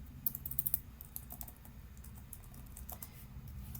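Code being typed on a computer keyboard for a Python OpenCV image-blending program, a steady run of light, close key clicks with a brief quicker burst near the start.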